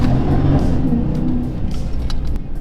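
A Dodge Charger Pursuit all-wheel-drive police car rounds a roundabout, its engine rumbling loud and close with a steady revving drone throughout.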